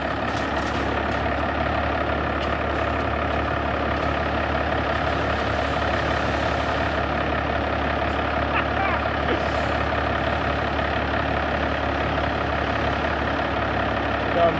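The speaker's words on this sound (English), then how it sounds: "Let's see how Ford gets through this portion here." A Ford truck pushing through deep snow gives a steady, heavy engine drone that holds at an even level for the whole stretch, with faint voices in the background.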